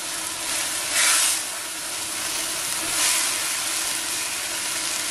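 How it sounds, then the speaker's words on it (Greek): Vegetables sizzle and simmer in a cooking pot as they release their liquid, a steady close hiss with two brief swells in loudness and no voices. "και θα ξεκινήσουν τώρα να βράζουν συγχρόνως"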